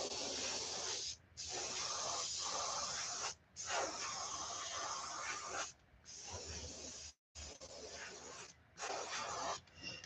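An airbrush sprays paint in brown tones onto a brown trout glidebait fishing lure, a close steady hiss in several bursts of one to two seconds separated by brief silences.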